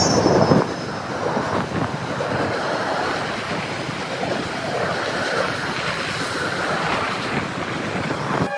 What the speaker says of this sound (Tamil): இதே நிகழ்ச்சியில் ராமேஸ்வரம் தாம்பரம் ரயில் சேவையையும் அவர் கொடியசைத்து துவக்கி வைத்தார்